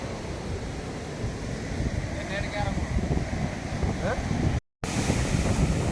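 Ocean waves wash onto a Kerala beach during net fishing, with a constant broad rush of surf and heavy wind buffeting the microphone. A voice is faintly audible underneath, and the sound briefly drops out near the end.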